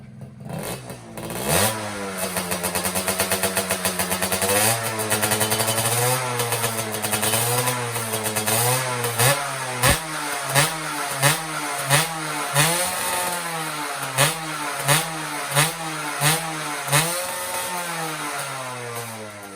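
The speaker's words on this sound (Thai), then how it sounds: "ท่อผ่านะครับท่อผ่า เด็ดจากทางร้านนะครับ เสียงใสๆเนียนๆ ครับผม" Honda Nova motorcycle fitted with a modified split exhaust, idling and then revved repeatedly up close, the engine note sweeping up and down before settling into a series of sharp, evenly spaced throttle blips.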